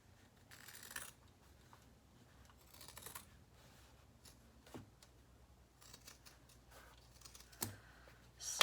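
Scissors trimming a fabric seam allowance down to a quarter inch on a reusable gift bag, with faint, close snips and clicks repeating irregularly in a quiet room.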